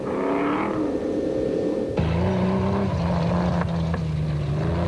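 Off-road racing vehicles, including an A-arm suspension Jimco and a Jeep, tear past at speed during the Sugarbelt 400 desert race in 2001; loud, steady engine roar with shifting pitch and a sudden change as a new vehicle takes over.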